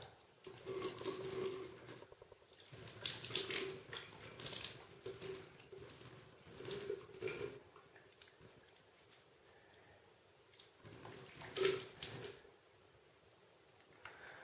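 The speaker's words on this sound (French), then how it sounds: "Donc là, on rince à l'eau chaude, à l'eau bouillante déjà." Hot, near-boiling tap water runs steadily as a Mighty & Crafty vaporizer is rinsed under it, a continuous close splashing and pattering that swells and dips as the parts are moved through the stream.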